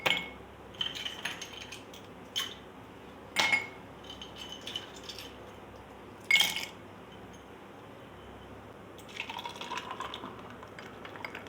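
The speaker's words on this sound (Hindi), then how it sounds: "बर्फ डालूंगी" Ice cubes drop into glasses of banana milkshake, a series of sharp clinks and clatters spaced apart, with softer rattling between them.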